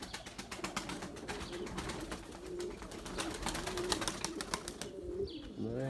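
Soft repeated coos of white tumbler pigeons over a steady background murmur, with a brief flutter of wings near the end.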